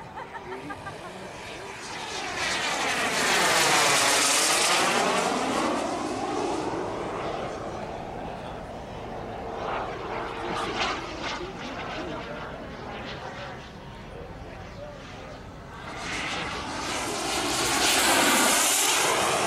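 A model jet powered by a Jet Central Rhino turbine of 36 pounds thrust screams past at an RC fly-in, rising and falling in two Doppler-swept passes, loud overhead and then fading before returning.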